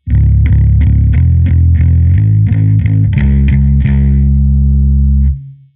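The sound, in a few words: bass guitar playing riff 4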